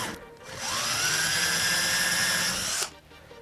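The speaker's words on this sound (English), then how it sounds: "My drill's dead." An electric drill being used while running speaker cable for a whole-home audio install: the motor spins up with a rising whine, holds a loud, steady pitch close by for about two seconds, then abruptly cuts out as the drill dies.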